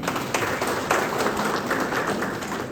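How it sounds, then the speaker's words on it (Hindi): An audience of parents and class 10 students claps at a school orientation session, a dense continuous patter of applause at steady loudness with no speech over it. "तालियां बजाएंगे"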